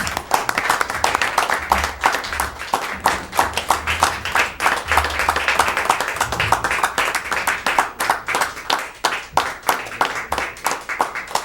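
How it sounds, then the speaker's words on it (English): Audience at a town board meeting claps in sustained, dense applause for a local police officer, steady and close throughout with no pauses. "Let's give him a round of applause."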